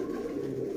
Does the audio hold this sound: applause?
no